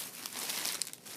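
A plastic bag crinkles close by in a brief, soft burst of rustling and crackling, heard alone.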